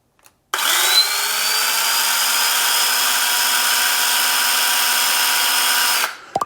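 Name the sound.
ECHO 56V mini battery chainsaw running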